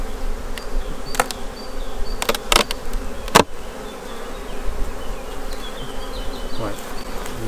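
Loud, close buzzing of many honeybees around a small, weakened hive, a continuous drone with individual insects zipping past the microphone.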